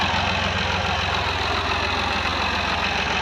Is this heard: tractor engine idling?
yes